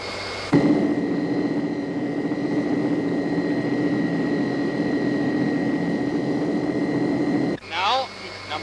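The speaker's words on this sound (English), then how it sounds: "it's very simple to start these engines up again" An aircraft engine relights in flight: a steady roaring engine drone with a sustained high whine kicks in sharply near the start and holds evenly, then cuts off near the end.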